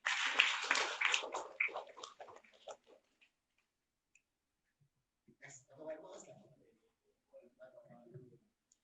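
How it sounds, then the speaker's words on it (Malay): Audience applause breaks out at an evening presentation in Johor, dense clapping loud at first and then thinning out over about three seconds, followed by quiet and someone speaking. "Kita bagi tepukan yang hebat"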